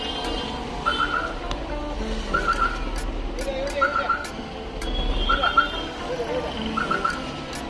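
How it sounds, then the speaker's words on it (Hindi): A delivery vehicle reverses on a city street in Pune, its reversing beeper chirping in short groups of three at regular intervals over a steady engine rumble and road noise, with faint talk in the background. "अभी गाड़ी रिवर्स में लगा लेता हूँ।"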